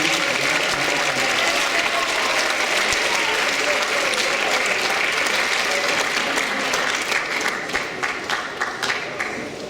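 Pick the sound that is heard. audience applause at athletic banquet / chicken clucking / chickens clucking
audience applause at athletic banquet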